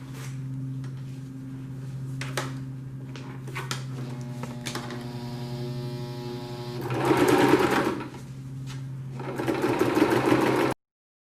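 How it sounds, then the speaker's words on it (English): Sewing machine stitching close to the edge of a pleated fabric face mask, a steady mechanical whir running throughout and growing louder in two bursts near the end, with no talking. "the next step is to sew very close to the edge all the way around"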